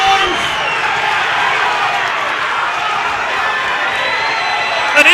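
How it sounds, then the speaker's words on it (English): A fight crowd on its feet at a Tim Atonio vs Israel Adesanya bout roars and cheers loudly and continuously, a dense wall of noise throughout with a slight surge at the end. "And the crowd is on their feet."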